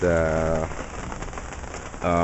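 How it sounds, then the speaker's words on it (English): Steady rain patters on a surface in the middle stretch, framed by short bursts of talk at the start and end. "with the rain all coming around, and it's gonna get as bad as it was"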